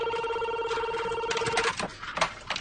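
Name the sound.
telephone ringing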